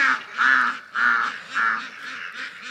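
Domestic ducks give a run of close, loud nasal quacks and honks in a quick repeated rhythm, several calls overlapping outdoors.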